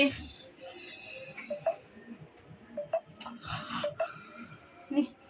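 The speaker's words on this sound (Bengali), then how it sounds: "তাও নাক ডেকে যাচ্ছে" Rapid rhythmic snoring, a series of short nasal snorts repeating steadily and fairly close, with faint voices in between.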